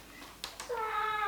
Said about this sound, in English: That's my cat, can you hear him?